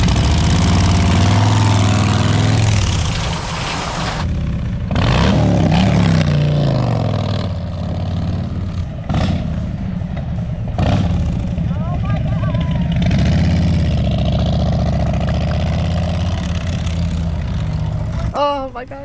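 New Harley-Davidson motorcycle engine running and revving nearby, a deep rumble that rises and falls, with people talking over it throughout.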